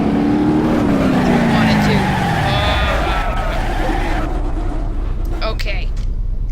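Car engine in the driving game BeamNG Drive, a loud revving drone that falls in pitch as the car slows and turns, followed by rumbling tire and road noise, with someone talking over it.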